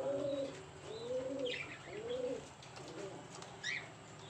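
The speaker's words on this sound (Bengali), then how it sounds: "কবুতর।" Pigeons kept on a village goat farm coo in several soft, rolling phrases, with faint chirps and a brief flutter of wings in the background, somewhat distant and quiet.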